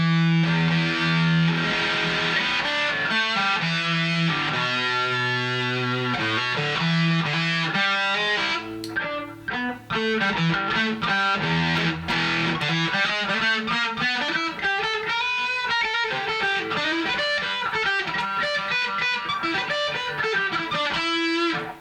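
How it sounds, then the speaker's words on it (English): A heavily distorted electric guitar plays a riff with sustained, fuzzy, buzzing tones and a gritty overdriven texture throughout. "starts to sound like it's diode distortion, and then LEDs, LED distortion, silicon, and then germanium"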